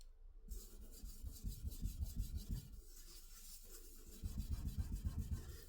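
Scrubbing burnt-on residue off a Maytag cooktop stove, a close, quiet rhythmic rubbing with a short pause midway before the strokes resume.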